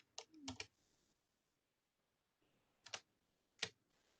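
A few short bursts of keyboard typing, quick clicks in two clusters separated by a quiet pause, fairly faint.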